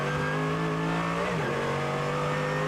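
Mercedes race car engine screaming along the track during the 2018 ADAC Zurich 24h race at the Nürburgring, a loud, steady high-revving note that dips in pitch midway as it shifts gear, with no talk.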